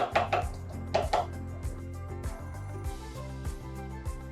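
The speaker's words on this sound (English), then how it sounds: "The sound changes from loud chopping to a quiet hum, and then suddenly it's paste, thick, shiny, and irresistible." Food processor grinding pistachios with vegetable oil into paste, a few sharp chopping clatters at first, then a steady whirring motor hum with rhythmic knocking pulses, fairly quiet and close.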